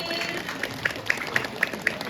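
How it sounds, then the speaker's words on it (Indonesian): An audience applauds at a Balinese comedy performance in a village banjar hall, a spread of claps with several sharper accents standing out against a dense crowd murmur. "ngiring tepuk tangan"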